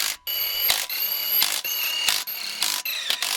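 A small impact wrench runs down lug nuts with a 19 mm (3/4-inch) socket, fitting 22.5-inch semi wheels on a Ford F550 service truck. It gives a series of about six loud, close, rattling bursts separated by brief pauses.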